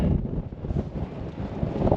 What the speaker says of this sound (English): Plus it's very windy